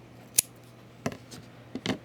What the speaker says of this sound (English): You're going to grab your scissors and you're going to cut off your yarn.